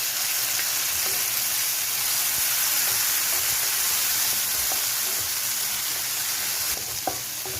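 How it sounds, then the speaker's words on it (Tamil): Onion, curry leaves and mint paste sautéing in a pan make a steady, close, continuous sizzle and hiss throughout, with a few soft stirring taps near the end. "கொஞ்சம் கருவேப்பிலையும் போட்டு தாளித்து விட்டுக்கிறேன். இப்போ இது கொஞ்சமாக புதினா பேஸ்ட்டு சேர்த்துக்கலாம்."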